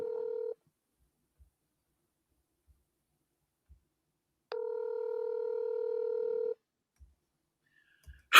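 A telephone being dialed, with two clear electronic tones close up: a short one at the start, then a longer steady tone after a pause of silence.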